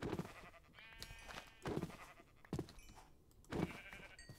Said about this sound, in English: Luckily, there are some sheep.